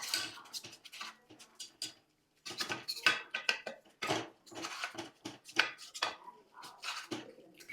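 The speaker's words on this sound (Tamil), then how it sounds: "இது நல்லா இந்த மாதிரி ஸ்மாஷ் பண்ணி விடணும்" Half-cooked lentils being mashed in a pot for paruppu payasam, a Kerala-style dessert: irregular soft scraping and tapping of a utensil against the pot, quiet and close, in uneven bursts with short pauses.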